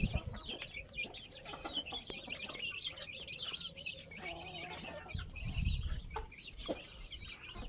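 Several Phanat-line fighting chickens cluck and chatter in repeated short bursts at moderate distance, with scattered rustling and occasional thumps between the calls.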